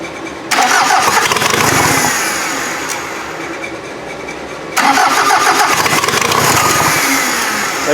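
A VW diesel engine fitted in an offroad Mazda cranks and catches, then runs loud and close, settles toward a steady idle, and surges again when the throttle is blipped.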